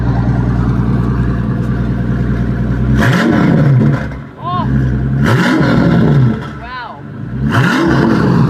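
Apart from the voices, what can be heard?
concept car engine revving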